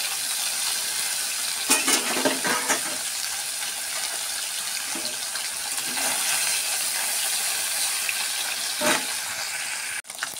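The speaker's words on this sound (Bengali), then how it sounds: "এবার মাছগুলো লাল লাল করে ভেজে নেব।" Fish frying in hot oil in a wok, a steady broadband sizzle with occasional crackling bursts and stirring clatter, close and continuous throughout with no talking.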